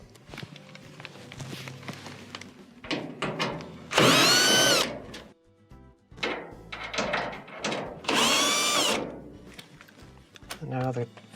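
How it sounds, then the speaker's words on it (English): Two loud bursts of a power driver fitted with a T20 Torx bit unscrewing a pair of screws from a Whirlpool dryer panel, along with clanks and handling noise nearby. "you're going to need a T20 Torx bit to remove the 2 screws at the top"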